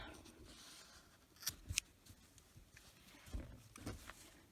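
Scissors snip crochet yarn in a couple of quick, faint, close cuts against a quiet background.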